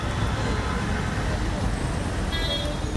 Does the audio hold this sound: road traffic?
yes